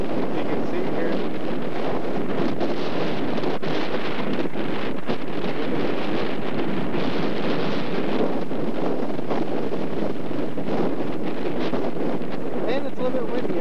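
Strong wind buffets the microphone on a Greek hilltop near Hadrian's Arch, a steady rushing roar with gusty surges that runs without a break throughout.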